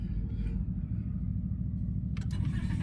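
Car engine already running after the third key click, a steady low idle rumble close by, with a brief rattling clatter near the end.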